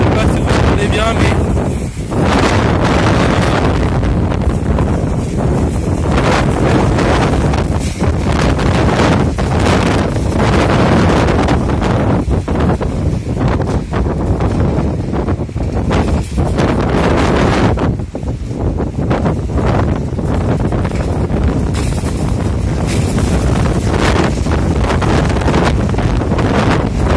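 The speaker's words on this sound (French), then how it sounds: "il y a une grosse tempête de vent" Powerful gusting wind from a strong windstorm roars and buffets the microphone without letup, a heavy rushing noise that swells and dips over half a minute.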